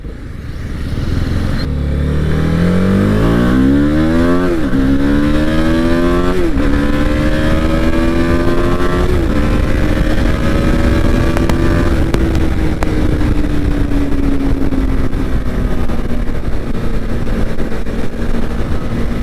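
Kawasaki Ninja H2 superbike engine revs loud and close, climbing through several stepped gear changes before settling into a steady high whine.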